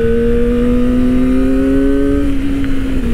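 A Kawasaki Ninja ZX-25R SE 250cc four-cylinder motorcycle engine holds a high, smooth, buzzing whine, loud and close, rising slightly in pitch before the revs drop near the end.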